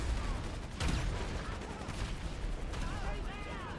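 GTA 5 gunfire during an alien invasion of Los Santos, with rapid shots and heavy blasts against a giant robot, dense and continuous, mixed with swooping laser-like tones.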